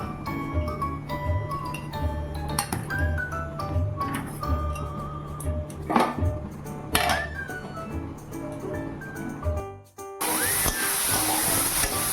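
Rice boiling over in a pot on a clay stove gives a steady close hiss and sputter with scattered clicks and tones around it, ending in a louder rushing hiss.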